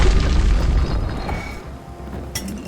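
A grenade goes off in a video game with a heavy, booming low rumble that slowly decays, followed by a small sharp pop near the end.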